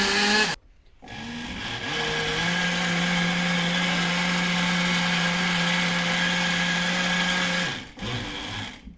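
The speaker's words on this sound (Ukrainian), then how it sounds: "І починаємо збивати." An electric blender whips the filling for a layered crepe cake, its motor switching on with a close, steady whine for about seven seconds before stopping abruptly.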